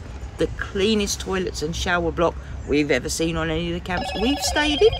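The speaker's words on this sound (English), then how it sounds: "Excuse the weird noise of the phone ringing in the background." A phone ringing in the background at a campsite, an electronic ring tone sounding steadily under someone talking close by.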